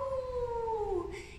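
A person imitates a coyote howl with a single sustained, wavering tone that slides downward and fades, sung as part of a nature song.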